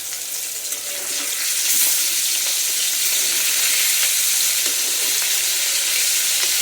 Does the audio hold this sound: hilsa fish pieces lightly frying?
yes